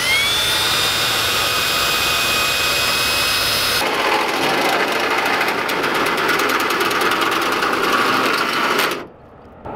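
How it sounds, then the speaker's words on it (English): An angle grinder cuts through the sheet-metal body of a Ford E Series van for a sliding door extension, a loud sustained high-pitched whine and grinding rasp that shifts tone midway, then stops abruptly near the end. "I can cut the rest of it out with a grinder"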